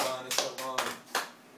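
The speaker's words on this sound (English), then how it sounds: "let's clap it up" A few hands clapping in a radio studio, four sharp claps spaced unevenly over a low background hum.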